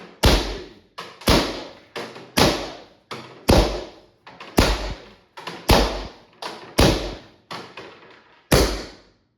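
A Valken M17 airsoft pistol firing BBs from a Zeta magazine, about a dozen loud, close, sharp shots in an uneven rhythm, each with a short ringing decay.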